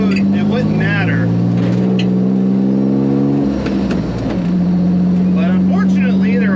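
A loud Pontiac Fiero built as a street and strip car drives along a street, its engine droning and revving steadily close by with a brief drop in pitch midway, while someone speaks over it.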